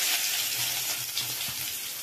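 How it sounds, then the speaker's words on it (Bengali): A bay leaf and cumin seeds sizzle in hot oil, a bright, dense crackle that holds steady and close for a couple of seconds. "আমি একটা তেজপাতা আর দুটো জিরে ফোড়ন দিচ্ছি।"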